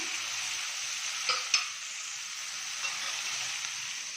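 Beans and garlic sizzle and fry gently in a pan, a soft continuous crackle with a couple of light stirring clacks from a utensil partway through.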